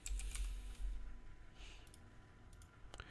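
Quick bursts of computer keyboard typing at a Shopify discount setup, a few clustered key taps at the start and scattered clicks later, close and fairly quiet.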